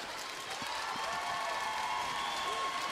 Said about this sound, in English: over this crowd, which is just deafening